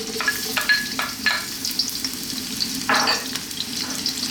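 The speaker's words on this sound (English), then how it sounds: "So we're going to drop in our onions." Onions dropped into a hot wok for shrimp fried rice fry at full blast, a steady loud sizzle with bursts of hissing and scraping stirs recurring every half second or so, no voices.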